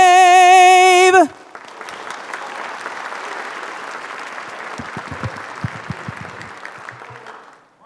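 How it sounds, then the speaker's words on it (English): A sung note ends the national anthem at a county swearing-in ceremony, then a crowd breaks into sustained applause, with a few sharper close claps standing out toward the end. "Another round of applause for our honor guard and for Karen Lee Albert"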